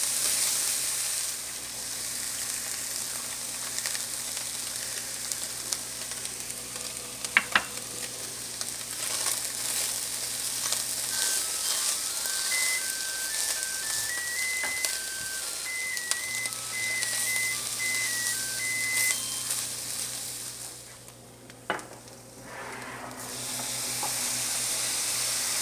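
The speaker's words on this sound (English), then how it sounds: "I'm going to return the ground meat back into the pan. Stir it around to incorporate everything." Ground meat sizzles in a pan for shepherd's pie with a soft, continuous crackle, broken by occasional scraping stirs and a couple of sharp knocks, while a faint melodic whistling runs in the background.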